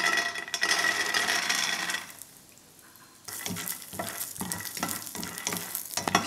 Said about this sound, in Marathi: शेंगदाणे खमंग असे भाजले गेले पाहिजे.